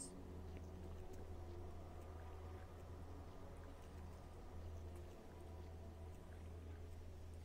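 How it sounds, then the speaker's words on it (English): Steady flowing-water ambience in the video game Doom 3, a continuous wash of sound over a low, constant hum, with no talk. "I don't appreciate the water flowing sounds."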